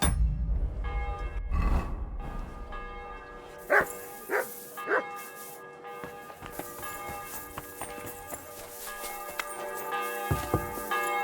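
A dog in Kingdom Come: Deliverance II gives a few scattered barks over a medieval village backdrop with music, footsteps and a distant bell.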